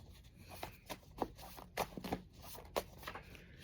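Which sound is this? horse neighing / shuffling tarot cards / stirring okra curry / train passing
shuffling tarot cards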